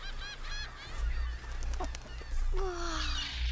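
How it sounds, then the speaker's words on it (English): Seagulls call in a short burst, a few nasal honking cries and a falling wail over low background rumble, fairly close. "Seagulls."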